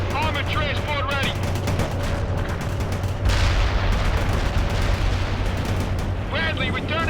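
A Bradley armored vehicle in the game World in Conflict fires steady rapid bursts of gunfire, loud and continuous, with booming impacts mixed in and a radio voice speaking over the battle.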